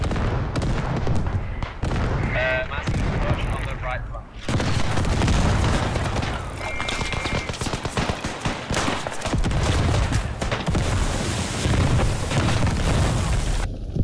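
Grenade explosions and constant gunfire in the First World War shooter Beyond The Wire on the Poelcappelle map: heavy booms and rattling shots fill a dense, loud battle soundscape while players talk over the radio.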